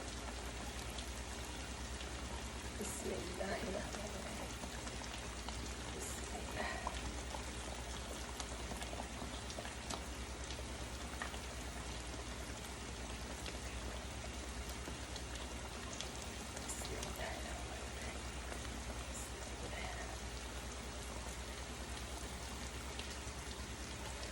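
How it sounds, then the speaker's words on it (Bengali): Hilsa fish pieces laid into hot spiced oil give a continuous, even, rain-like sizzle that stays faint and steady throughout, with no talk. "মশলাটার মধ্যে তেল উঠে গিয়েছে আমি মাছগুলো এক এক করে বিছিয়ে দিব"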